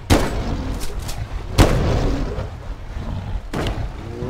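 Gunshots in the Bigfoot video game: several sharp, loud bangs with booming tails, spaced irregularly over a rumbling background.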